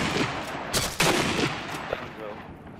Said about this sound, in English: Porter, did a bullet just, or Ed, did a bullet just come by you?